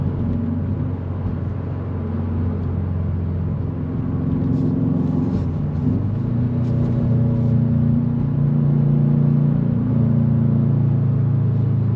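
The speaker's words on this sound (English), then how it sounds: "the exhaust is a little bit loud for every day." A 2020 Subaru WRX STI's exhaust drones steadily from inside the cabin while driving, a low rumble with slight rises and shifts in pitch, fairly loud and continuous.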